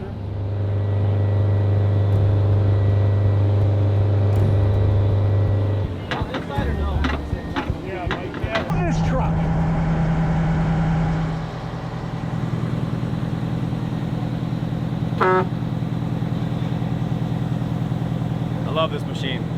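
A heavy tow truck strains loudly against a stuck dozer, its engine a steady low roar that drops briefly, then builds again with clanking and rising mechanical tone through the rest of the pull.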